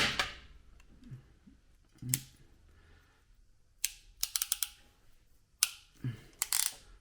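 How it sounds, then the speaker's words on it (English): Ratchet crimpers squeeze insulated spade connectors onto wire ends, giving sharp clicking ratchet bursts and scattered snaps separated by quiet pauses, close and alone. "So I'm just going to crimp on some nice little insulated spade connectors here onto the ends of my wire."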